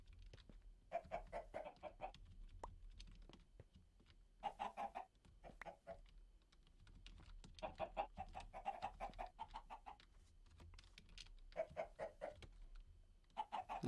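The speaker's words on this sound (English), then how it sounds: "Is the chicken really in the glass?" A chicken clucks in repeated bursts of short, throaty notes with brief pauses between them, close and fairly loud against a quiet background.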